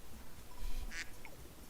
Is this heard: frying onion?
no